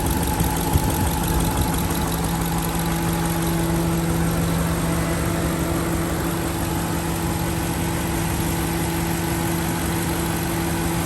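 A 6.4 liter Hemi V8 in a 2021 Ram 2500 pickup idles steadily and close by, a constant low hum with a smooth, even drone and no other sounds.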